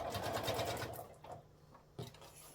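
Sewing machine stitching a 12 by 9 inch fabric tablet sleeve corner to corner, a fast rhythmic whir at close range that runs for about a second, pauses, then restarts briefly.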